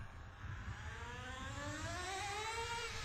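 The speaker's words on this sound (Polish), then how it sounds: "Najpierw pojeździ trochę modelem, aby rozgrzać silnik." A small-block nitro engine in an MT2 radio-controlled model car runs steadily while warming up, a continuous buzzing drone with rising whine, close and alone without speech.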